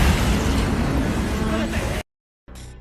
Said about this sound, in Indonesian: saat kapal JDS Miyoko mencoba membantu Alex, kapal Stinger itu justru menyerang balik dengan tembakan meriam hingga membuat kapal JDS meledak